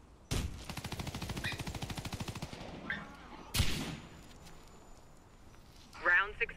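Rapid automatic gunfire in the online shooter Warface on the trailer park map, a fast steady burst lasting a few seconds, followed by a single loud shot and brief game effects.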